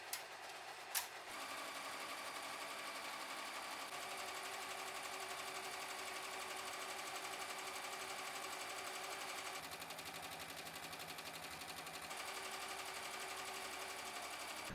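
An embroidery machine stitches the final color of an in-the-hoop stained glass ornament, giving a steady, fast, even mechanical chatter that runs unbroken and fairly faint after a couple of small clicks at the start.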